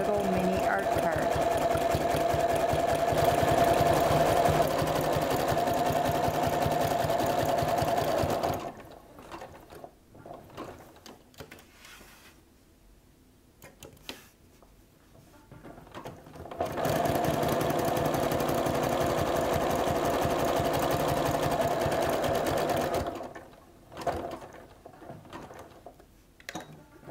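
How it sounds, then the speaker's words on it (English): Sewing machine stitching a zigzag around the edge of a small quilted art postcard, a steady mechanical whir with rapid rhythmic clatter in two long runs separated by quiet pauses with faint handling noises. "I go zigzag all around the perimeter of my little mini art card"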